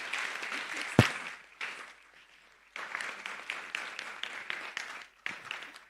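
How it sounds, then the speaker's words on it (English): Audience applause at a tech show in Mysuru, arriving in uneven bursts of many hands clapping, with a sharp thump near the start, a brief lull, then renewed clapping that fades and returns. "let's have a round of applause for her"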